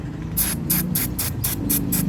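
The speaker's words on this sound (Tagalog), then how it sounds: "spray nyo muna yung labas para malinis na" Carburetor cleaner sprays from an aerosol can onto the outside of a Honda Dio scooter carburetor in rapid, evenly spaced hissing bursts, seven in about two seconds, close and loud over a low background hum.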